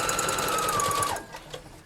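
A BabyLock serger stitches a seam on a shirt in a rapid, steady mechanical whir with a high hum, then winds down and stops near the end, close and clear.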